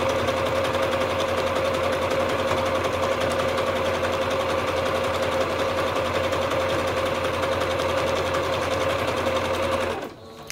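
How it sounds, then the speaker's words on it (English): A sewing machine runs a steady zigzag stitch across fabric for a collage roll, humming continuously and close for about ten seconds before stopping abruptly. "you might even want to sew right across here. Let's go with zigzag just so it holds it down a little bit better"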